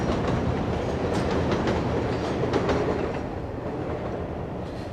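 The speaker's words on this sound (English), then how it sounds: "Here's the subway passing overhead." An elevated subway train rumbles past overhead on a Myrtle Avenue street in New York City, a dense, loud clattering roar of wheels on track that fades slightly toward the end.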